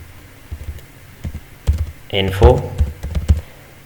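Keys clatter on a computer keyboard as an SQL delete command is typed, short tapping bursts mixed with a person talking nearby.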